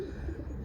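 A racing pigeon coos close by in a soft, continuous low murmur with no talk over it.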